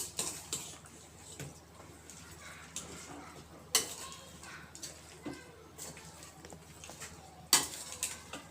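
Mutton biryani mixture is stirred in a pressure cooker, with soft scraping and occasional sharp clinks of a utensil against the pot, under a voice talking throughout.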